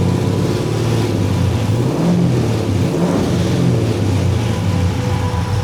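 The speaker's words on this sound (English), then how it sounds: "it sounded really good when it revved up" A loud car engine runs continuously on a dyno after a misfire repair, its pitch climbing and falling through a couple of revs, close and steady with no talking.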